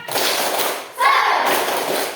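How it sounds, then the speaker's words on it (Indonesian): A classroom of children performing the tepuk semangat clapping chant, with loud, dense rhythmic clapping and voices in two bursts with a brief dip between. "Tepuk semangat!"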